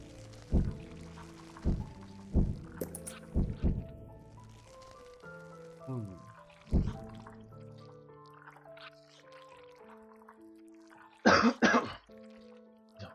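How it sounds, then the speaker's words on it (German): Several coughs and throat clearings from a man during a German-language let's play of the ant strategy game Empires of the Undergrowth, spaced irregularly at close range with no talk over them, then a brief burst of noise near the end. "Dieser Husten ist ja schlimm."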